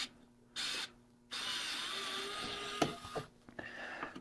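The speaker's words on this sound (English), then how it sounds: "it says to remove the 3 screws here on the bottom" A power screwdriver whirs in a couple of bursts, then a long steady whine follows with clicks and handling knocks as screws come out of the bottom cover of a Dual C839RC vintage cassette recorder, close up with no talk.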